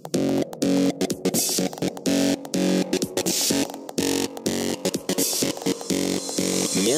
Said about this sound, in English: now we need some fat distortion